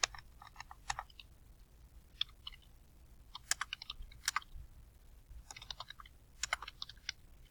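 Close, quiet typing on a computer keyboard comes in irregular bursts of crisp key clicks, with brief pauses between clusters and no talking.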